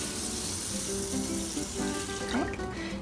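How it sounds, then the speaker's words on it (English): Water pours steadily into a cooking pot for rice, a continuous splashing stream at close range in a home kitchen, with no talking. "So I'm gonna pour the water."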